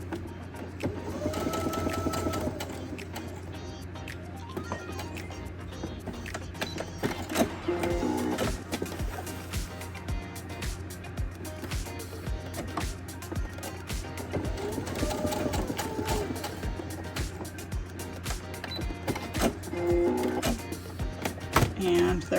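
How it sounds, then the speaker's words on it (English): A sewing machine stitches short seams on a zippered fabric pouch, running in steady bursts with brief pauses between them, close and fairly loud with a constant low hum underneath. "I'm just going to sew 2 little lines"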